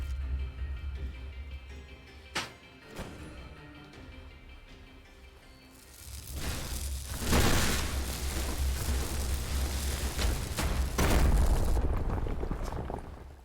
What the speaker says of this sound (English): the explosion destroys the tunnel